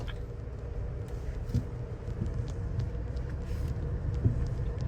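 BMW X5 M60i with twin-turbo V8 crawling over an off-road test course at a factory track, a steady low engine rumble with occasional thumps from the suspension and tires.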